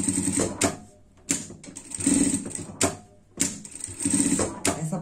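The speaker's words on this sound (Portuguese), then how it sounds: "a gente vai passar, prespontar e já passar uma costura aqui no olho também" Sewing machine stitching the felt eye of a frog costume: several short bursts of fast mechanical whirring and clatter separated by brief pauses, close and fairly quiet.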